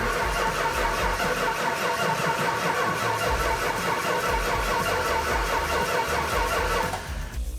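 Makeshift go-kart engine cranking over and over in a fast, steady mechanical rhythm, loud and close, stopping abruptly near the end without catching.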